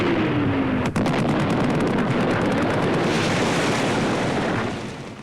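Gunfire during a country shoot with beaters, a dense continuous barrage of loud overlapping blasts and crackle with one sharp crack near the start, sustained throughout and tapering slightly at the end.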